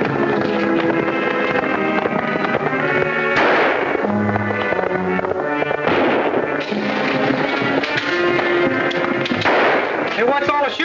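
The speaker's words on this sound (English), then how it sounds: "what's all the shooting for?" Gunfire in an old western film, repeated sharp shots ringing out over a busy soundtrack with orchestral music and voices, loud and steady throughout.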